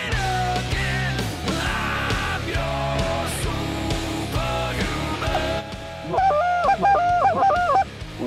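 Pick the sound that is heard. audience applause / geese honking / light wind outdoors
geese honking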